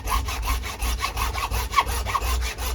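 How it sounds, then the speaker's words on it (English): Hacksaw cutting through a sewage drain pipe, with close, loud rhythmic back-and-forth strokes of about four per second rasping steadily throughout. "So we're just gonna hacksaw this."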